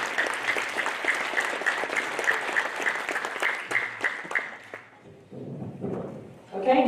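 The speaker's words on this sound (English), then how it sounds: "I'd like to give them a round of applause." An audience at a school teacher celebration claps steadily for about five seconds, then the applause fades and a voice begins speaking.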